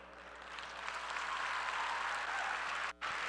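A large audience applauds at an inspirational talk, a dense wash of clapping that swells in the first second and holds steady and full, with a brief dropout near the end.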